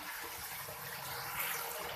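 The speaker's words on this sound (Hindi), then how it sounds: "अब इसके अंदर हम पानी डाल रहे हैं।" Water poured into a cooking pot of browned tinda and mutton curry, a steady hissing, splashing rush that holds for the whole two seconds at moderate loudness, without speech.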